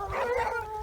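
A hunting dog bays in a brief, drawn-out howl at a hare-hunting competition, loud and fairly close outdoors.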